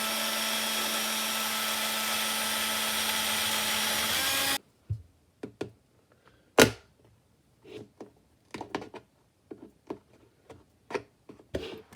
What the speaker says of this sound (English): I began drilling a hole in the container for the tube.